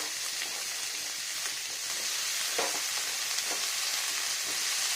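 Potato pieces fry in a pan of hot oil for a prawn and banana-flower curry, giving a steady, broad sizzle with a few soft stirring scrapes, close and unbroken throughout.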